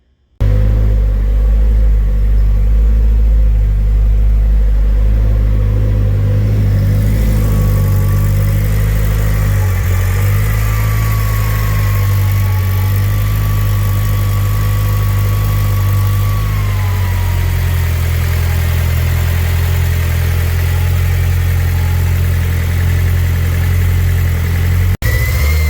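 A Honda NSX engine starts up and settles into a loud, steady, rumbling idle close by, holding for more than twenty seconds with a faint whine drifting through the middle and a slight change in tone toward the end.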